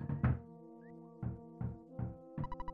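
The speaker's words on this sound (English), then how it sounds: "Someone's knocking at the door." Knocking on a door in the video game Earthbound comes as a short series of chiptune knock hits, four or five spaced beats ending in a quick rapid flurry, heard alone over sustained synthesized music.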